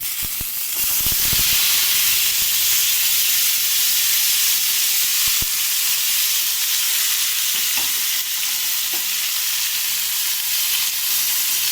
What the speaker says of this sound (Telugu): కొంచెం ఫ్రై చేసుకుందాం, పచ్చి వాసన పోయే వరకు.